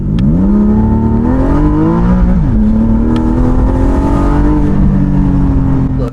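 A Porsche 718 Spyder's engine pulls hard on a twisty road, its loud, steady tone climbing through the revs, dropping briefly at a gear change and then rising again.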